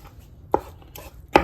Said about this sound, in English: Give that a rough chop there.